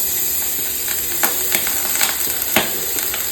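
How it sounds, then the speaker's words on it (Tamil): Grated carrots fry in ghee in a pan, giving a steady close sizzle with a high hiss and a few sharp scraping clicks as they are stirred. "நல்லா ரோஸ்ட் பண்ணிக்கணும். நல்லா வதக்கிட்டுக்கோங்க."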